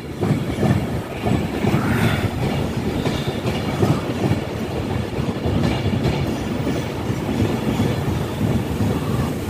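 Royal Mail train running from Shieldsmere Mail Terminal to Warrington rumbles past close by, with a loud, steady roar and clickety-clack of wheels throughout.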